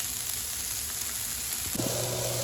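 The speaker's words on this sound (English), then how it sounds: "after those onions and peppers have been sauteing for about 3 to 4 minutes" Onions and peppers sauté in oil for Caribbean-style fried cabbage, giving a quiet, steady sizzle with a soft hiss throughout and a faint stir or clink near the end.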